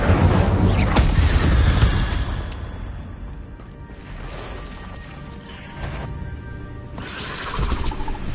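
Incendio fire spell in the wizarding game Hogwarts Legacy, a loud whooshing blast of flame at the start that fades into crackling, clattering combat noise, with a few more bursts flaring up later and no talk.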